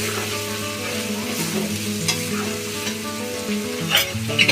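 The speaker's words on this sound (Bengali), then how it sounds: "এবার আমি সোয়াবিনগুলো দিয়ে দিচ্ছি। সোয়াবিনগুলো দিয়ে ভালোভাবে কষিয়ে নেব।" Soybean chunks sizzle and crackle loudly as they are stir-fried in a hot pan, with scraping stirs and a constant close-up frying hiss.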